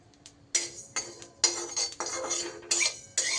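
Panch phoron spices are stirred dry in a kadai on a gas stove, a metal spatula scraping and rattling the seeds in several short bursts separated by quiet gaps.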